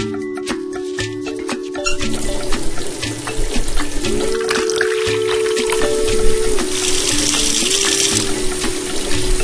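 Continuous rushing water from a cartoon fire truck's hose hisses loudly throughout, while steady electronic tones glide and hold over it, like a toy siren playing alongside.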